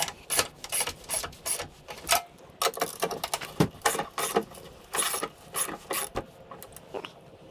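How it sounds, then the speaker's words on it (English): Battery J-hooks on a Toyota Tacoma are tightened during an AGM battery install, producing a rapid series of close, clicking ratchet-like mechanical bursts in short irregular groups. "But now I gotta tighten up these J-hooks."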